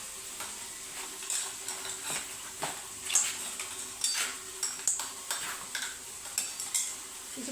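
Fish fries in a pan at home, a quiet sizzle broken by repeated scrapes and clinks of a utensil stirring against the metal, no voices.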